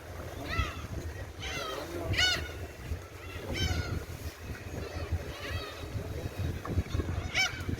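Seabirds call repeatedly at Jangho harbour, a seaside port, their honking, gull-like cries rising several times over steady wind and water noise, with people talking in the background.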